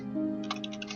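Quick computer keyboard typing heard as a short burst of light clicks over a steady background tone, entering a word while using a Hollow Knight Silksong mod.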